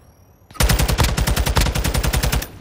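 An automatic weapon in Modern Warfare 2 fires a sustained, close, rapid burst of about two seconds, roughly twenty evenly spaced shots, loud and alone.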